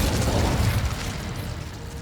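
An Incendio fire spell cast in Hogwarts Legacy: a loud, dense burst that roars and crackles, then thins slightly while the rumble carries on through about two seconds.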